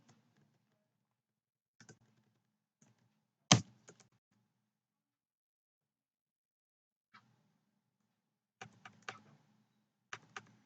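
Keys tapped on a computer keyboard while an SQL query with a date and time value is entered, sparse quiet clicks in short scattered bursts with long silent gaps and one sharper louder tap.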